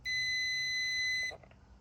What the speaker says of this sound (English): So I put the multimeter on just to, basically if it makes a circuit it will alarm.